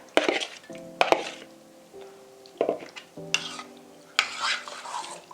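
A spoon stirs cherries into thick, stiff pudding in a pot, with irregular scraping strokes, soft wet squelches and a few sharp clinks against the side, close and moderately loud with no talk.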